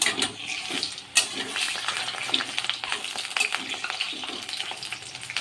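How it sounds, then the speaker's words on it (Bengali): Malabar spinach leaf fritters fry in hot oil, a continuous bubbling sizzle broken by a sharp clatter near the start, close and steady with no talk. "এগুলোকে এখন ভেজে নেব ভালো করে।"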